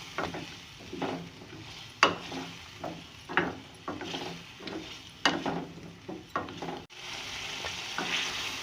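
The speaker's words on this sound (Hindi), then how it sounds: "लौकी को डालने के बाद मैं बहुत अच्छी तरह मसाले में मिक्स करने के बाद इसे भून लूँगी।" Bottle gourd (lauki) stir-frying in spice masala for a chana dal dish, with repeated scraping and stirring strokes over a steady low sizzle, close up and with no talking.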